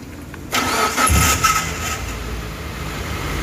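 A car with a rough-running, vibrating engine is started: a short cranking burst, then the engine catches and settles into a steady idle.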